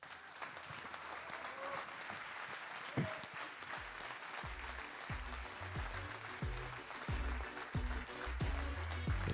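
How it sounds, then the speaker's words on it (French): Sustained ovation from the crowd at an awards ceremony for the Urban Trail Chaumont running event, dense steady clapping throughout with low thumps and some cheering mixed in. "je vous demande simplement une ovation et des applaudissements nourris."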